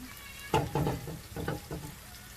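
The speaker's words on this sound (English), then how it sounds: "Now let the onions cook." Onions frying in butter alongside smoked sausage in a pan, giving a quiet, steady sizzle with a few soft stirring clatters and pops, and no voices.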